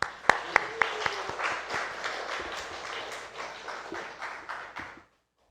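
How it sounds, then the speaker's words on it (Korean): A church congregation at a Sunday afternoon service claps, starting with a few sharp, loud claps and settling into steady applause that stops abruptly near the end. "큰 박수로 모시도록 하겠습니다"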